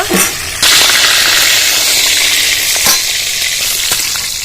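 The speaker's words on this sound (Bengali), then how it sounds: "বাকি মাছগুলো ভেজে নেব" Remaining pieces of bhola (bhetki) fish frying in hot oil for a mustard curry, giving a steady, close, loud sizzle and crackle throughout with no talking.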